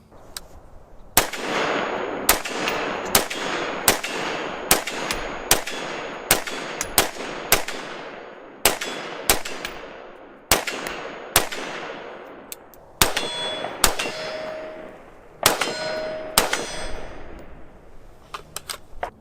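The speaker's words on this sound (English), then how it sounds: "with the red dot hitting steel targets" Sharp metallic clangs ring out as rifle rounds from a lightweight AR-style rifle with a 1X red dot strike steel targets, about sixteen impacts in an irregular, fairly steady cadence, each with a bright ringing tail, loud and close.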